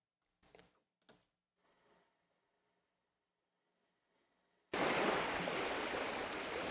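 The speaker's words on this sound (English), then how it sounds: "those are for sure waves, and that could possibly be the right sound." Ocean waves from a stock sound effect library surge in suddenly after a few quiet clicks, a loud, dense wash of surf that continues steadily to the end.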